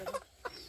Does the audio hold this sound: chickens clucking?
yes